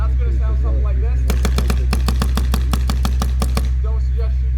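Deltaforce Blaze gravity-fed paintball marker fired at roughly four to eight balls a second, a string of a dozen or so crisp pops at a slightly uneven pace, with a low steady hum underneath and voices briefly before and after.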